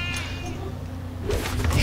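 An evil sheep enemy in the Skylanders Trap Team video game gives a short, nasal bleat over game music and effects.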